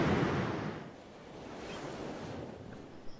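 Pacific Ocean surf on the northern Oregon coast, a broad steady wash of breaking waves that swells loud at first, eases, then holds as a continuous hiss with some wind noise, no voices.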